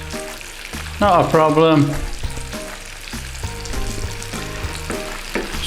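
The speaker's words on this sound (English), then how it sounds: "we're going to add our potato mixture straight in the pan" Potato mixture for bubble and squeak, made from leftover roast dinner, frying in a pan with a steady close sizzle, while a voice talks briefly over it near the start.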